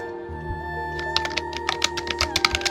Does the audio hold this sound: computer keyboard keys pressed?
yes